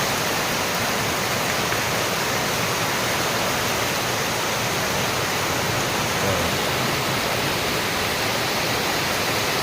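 Heavy rain pouring down in a dense, unbroken roar of broadband hiss, loud and constant throughout, with no voices.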